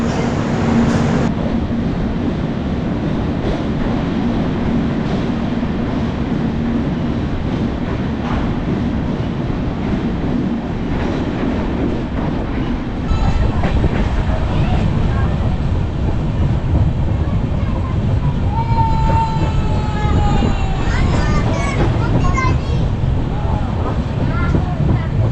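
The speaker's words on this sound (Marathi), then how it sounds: "चला, बोगद्यातून गाडी निघाली" A Konkan Railway train runs on through hilly coastal country just after leaving a tunnel, giving a steady loud rumble and rattle of wheels and carriages, with a shift in tone partway through and some squealing near the end.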